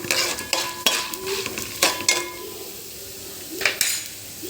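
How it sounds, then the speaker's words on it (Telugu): Peanuts, chana dal and urad dal frying and being stirred in a pan for carrot pulihora, with a soft steady sizzle under repeated close scrapes and clinks of a spoon against the pan. "ఇప్పుడు కొంచెం లైట్గా శనగపప్పు మినపప్పు ఇది కూడా కొంచెం వేసనిద్దాం"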